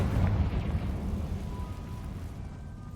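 A Confringo blasting spell goes off in the Hogwarts Legacy video game: a heavy low boom at the start that fades into a rumbling, crackling tail, moderately loud and without speech.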